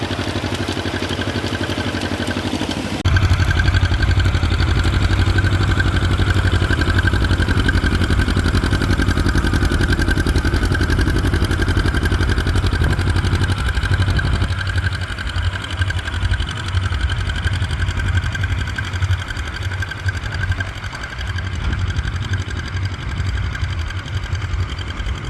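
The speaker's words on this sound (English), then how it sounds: "this is an heirloom tractor" An heirloom farm tractor engine runs at a plow day in Edenton, North Carolina, a loud steady mid-pitched chugging that starts after a few seconds and continues close and unbroken, with the load shifting slightly partway through.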